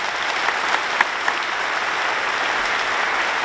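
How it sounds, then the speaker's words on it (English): An audience at a conference opening ceremony claps steadily, a dense wash of applause filling the room at an even level throughout. "Please, a round of applause."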